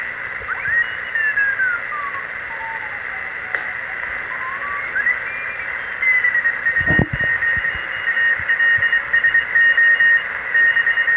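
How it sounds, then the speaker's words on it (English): CW Morse code tones on a Heathkit HR-1680 SSB/CW receiver, with several steady beeping carriers and keyed dots and dashes over band hiss, as tuning sweeps across close-together signals. "Now let's see if we can pick up some CW or Morse code signals"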